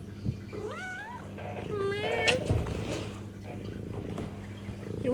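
Archie, a small pet cat, lets out two or three clear, drawn-out meows close by, one after another in the first half, over a low steady hum, then quiet room noise.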